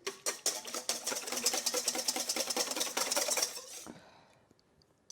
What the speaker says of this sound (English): We're supposed to whisk them until they're frothy